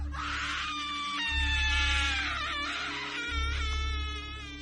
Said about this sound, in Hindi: लड़की के मुंह के पास आके वो चीख पड़ी